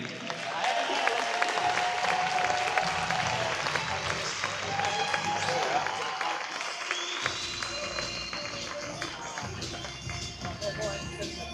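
Audience applause for a first-place award winner at a sporting competition's prize ceremony, a steady spread of clapping with brief taps and crowd noise, and a voice speaking over part of it.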